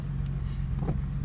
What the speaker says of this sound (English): you can see we're idling now at sort of 800 to 900 RPM